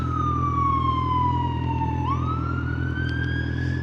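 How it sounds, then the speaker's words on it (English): A London fire engine siren wails, its pitch sliding down and then rising again, heard over the steady hum of traffic. "Emergency vehicle on the right hand side."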